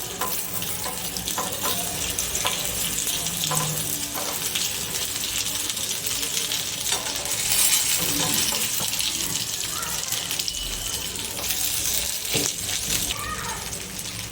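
Kathiyavadi-style stuffed green chillies fry in oil and get turned in the pan, giving a continuous close sizzle with scattered clinks and scrapes of the spatula, and no talk over it.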